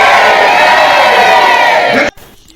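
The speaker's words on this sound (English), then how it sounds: "Are you shouting amen or are" A church congregation roars out a loud shouted amen together, a dense, sustained wall of many voices that cuts off abruptly after about two seconds, leaving near silence.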